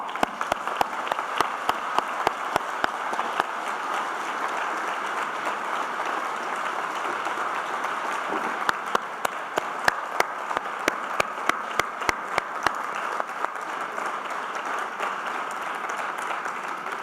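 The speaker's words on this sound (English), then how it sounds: "if you could join me in giving them one more round of applause" At a Geneva summit, an audience gives two laureates another round of applause, a long, steady stretch of many hands clapping, with distinct close, sharp claps from nearby individuals punctuating the crowd's wash.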